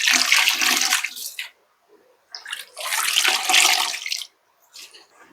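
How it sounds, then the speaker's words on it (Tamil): Soaking water is poured into an LG semi-automatic washing machine, two long splashing gushes separated by a brief pause, then a short trickle at the end, close and fairly loud. "ஓகே, இந்த ஊற வச்ச தண்ணியும் அப்படியே ஊற்றி விட்டுருங்க"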